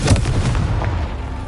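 A Confringo spell explosion in a Hogwarts video game: a loud, booming fiery blast at the start that rumbles and fades over about a second and a half.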